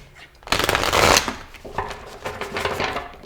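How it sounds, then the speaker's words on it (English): A tarot card deck is shuffled by hand up close, a burst of rapid riffling flutter followed by softer, irregular card slides and taps, with no talking over it. "I just like to shuffle one more time on camera"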